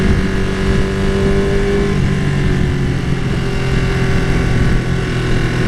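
A Ducati 959 Panigale motorcycle engine held at steady open throttle, a loud, close, continuous droning rev with a constant pitch that shifts slightly partway through, with no pauses.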